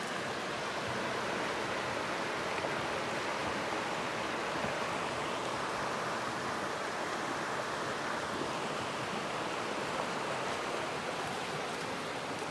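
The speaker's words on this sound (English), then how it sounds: "We just walked down to the creek." A creek near the Seton Dam campgrounds flows with a constant, close rushing hiss of water, steady and unbroken throughout, with no voices.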